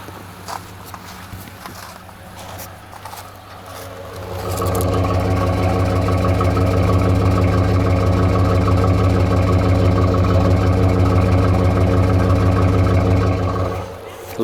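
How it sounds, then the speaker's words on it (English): A 1998 Jeep Grand Cherokee 5.9 V8 starts and settles into a deep, loud, steady exhaust idle close by, rumbling for about ten seconds after some handling noises. "Let's go and hear the exhaust."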